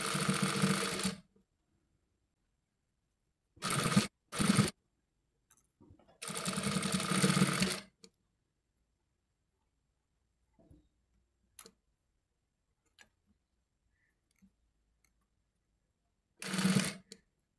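A sewing machine runs in short, sharp bursts while stitching lace onto a kurta, close and crisp, with several quick runs separated by long silences and faint clicks.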